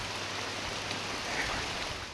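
Rain falling near the Kalakeri Nandeshwara temple area in Dharwad, a soft, even hiss of drops heard alone and at low level for the whole moment.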